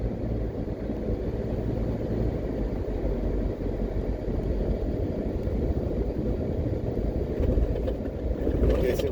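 A car drives through a town in Jamaica near the JDF Moneague Base, heard from inside as a steady, low engine and road rumble that holds even throughout.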